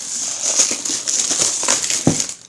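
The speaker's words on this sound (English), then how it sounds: "Let's slice open the cellophane and get into it, shall we?" Cellophane wrapping being sliced and peeled from a heavy Dungeon Saga board game box, loud close crinkling and crackling in quick irregular bursts, alone.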